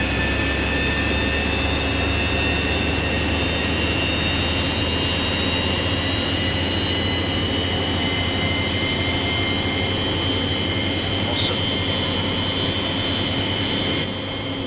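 A Boeing 727 jet engine in a flight simulator game spins up with a steady low roar and rising high-pitched turbine whine, continuous and loud throughout.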